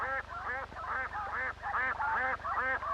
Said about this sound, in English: but he also raises ducks.